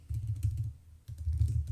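Soft, muffled typing on a computer keyboard in two short runs of quick keystrokes separated by a brief pause, close and quiet with no voices.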